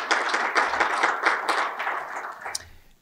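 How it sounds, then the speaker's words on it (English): An audience at a community wind energy presentation applauds, with moderate clapping from a small group that swells in bursts and then fades away. "Let's give him a round of applause."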